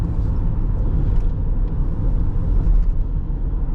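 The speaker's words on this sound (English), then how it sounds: "Let's do an acceleration run this way." A 2021 Toyota Sienna LE Hybrid van accelerating, heard from inside the cabin as a steady, loud low road rumble with faint higher whirring on top.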